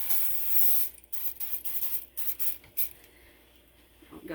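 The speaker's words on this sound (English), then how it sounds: "And I'm going to spray this with my cooking spray." Cooking spray hissing onto a 9x13 baking pan in a home kitchen, a loud steady burst at first followed by several short, close spurts with brief gaps between them.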